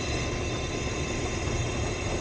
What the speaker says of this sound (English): This is the first time I've ever driven a train.